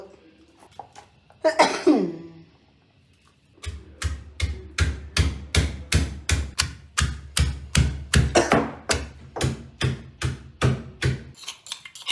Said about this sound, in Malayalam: ചുമയ്ക്കുന്നു